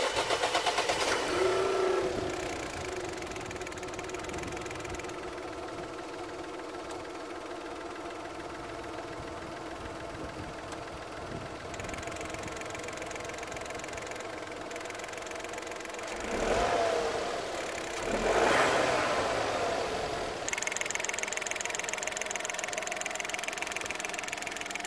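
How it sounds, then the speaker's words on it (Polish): A Dacia Duster 1.0 TCe 100 running on LPG idles steadily with a mid-pitched hum and a fine ticking from the gas injectors, rising briefly in two short revs before settling back. "Na gazie niestety wciąż wtryski hałasują dokładnie tak samo jak i w 2019 roku."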